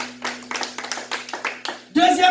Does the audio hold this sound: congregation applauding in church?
yes